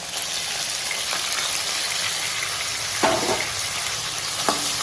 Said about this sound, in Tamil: தக்காளி நல்லா வதக்கும்.